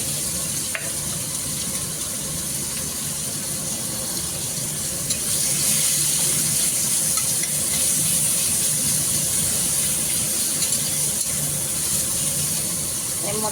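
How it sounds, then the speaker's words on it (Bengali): Cumin, a bay leaf and chopped onion fry in oil left over from frying fish, producing a steady close sizzle that grows slightly louder midway and continues without pause. "মাছটা ভেজে তুলেছি, সেই তেলের মধ্যে এবার দিয়ে দেব জিরা আর একটা তেজপাতা।"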